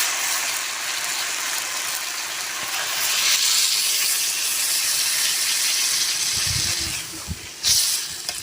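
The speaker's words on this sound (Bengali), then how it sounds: "জল দিয়ে দেবো।" Water poured into a hot pan of cooking Malabar spinach, a broad steady hiss and sizzle of steam that swells midway, with a few soft clunks of the pan near the end.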